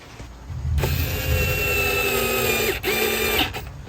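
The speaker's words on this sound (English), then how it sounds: "go back with our screwdriver or our electric screwdriver and finish them off" Electric screwdriver driving the screws of a Chevy Traverse air filter cover, a steady whirring motor drone held close for about three seconds with a brief pause, no talking.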